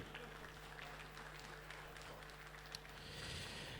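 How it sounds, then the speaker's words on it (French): An audience applauds a winner at an industry awards ceremony, steady and fairly faint, with a low hum and some murmuring beneath the clapping. "vous pouvez encore l'applaudir, c'est Yassine Lerzeoui."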